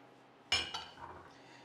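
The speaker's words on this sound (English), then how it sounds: "And we can give this a little mix." Metal utensil clinks twice against a bowl of cut okra in wet buttermilk mix, followed by softer scraping as it is stirred, close and fairly quiet.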